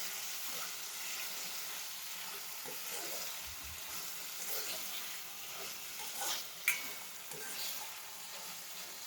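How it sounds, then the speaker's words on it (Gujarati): Two tomatoes and two medium onions fry in oil for a Gujarati fenugreek (methi) dish, making a soft, steady sizzle with faint stirring and a small clink partway through. "તેલમાં ફ્રાય થવા દઈશું"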